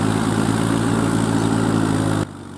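Massey Ferguson 246 Dynatrack 4WD tractor with a Maschio 7-foot, 60-blade rotavator, its diesel engine running at a steady loud drone before cutting off abruptly near the end.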